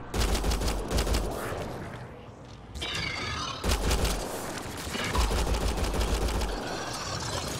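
In Mass Effect: Andromeda, dense rapid gunfire rattles in loud bursts. It pauses briefly, then resumes with heavy thuds and rapid shots.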